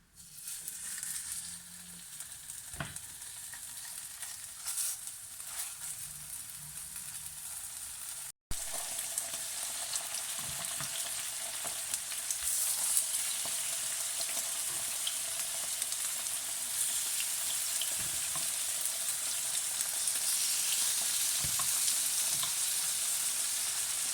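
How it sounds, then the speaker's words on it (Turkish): Oil sizzles steadily in a pan as boneless chicken fries, a constant crackling hiss that briefly cuts out, then returns louder. "Önce tavukları bir kızartacağım önlü arkalı."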